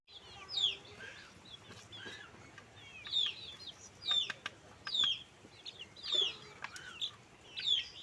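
Domestic chickens cluck and call around a village household, a series of short, sharp, moderately close vocalizations repeating roughly every second over a quiet background, with no talking.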